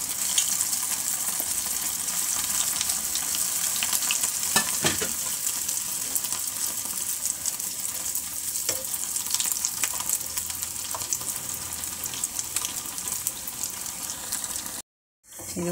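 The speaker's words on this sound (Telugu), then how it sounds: "నూనె వేడెక్కింది కదా, ఈ బ్రెడ్ ముక్కలు దీంట్లో వేసుకుందామండి" Bread pieces frying in hot oil for a sweet, a continuous bright sizzle with scattered pops and stirring clicks, cutting out briefly to silence near the end.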